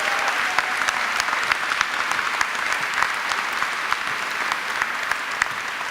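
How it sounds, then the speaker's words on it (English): A large audience at a city address in Denver claps steadily and loudly for Steve Hogan, a continuous wash of applause with sharp individual claps poking through, no talk over it. "Let's give Steve Hogan a round of applause"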